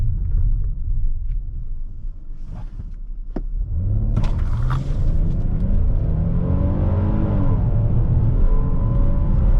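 Low idle rumble, then a Hyundai Palisade SUV's engine surges and winds up through rising gear pitches as it accelerates hard from 0 to 60, loud and close.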